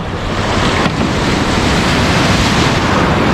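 Waves break on a Mumbai shore near a fishing boat loaded with catch, a loud, dense, continuous surf roar mixed with wind, with no voices.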